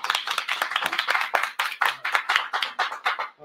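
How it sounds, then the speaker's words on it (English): Sparse applause for a guest during a live LEGO train stream, several pairs of hands clapping in uneven bursts that are close and moderately loud, with no voices. "Applause."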